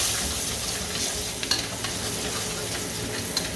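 Guanciale fries in hot oil in a pan with a dense, steady sizzle and crackle, close and continuous, with a few stirring scrapes.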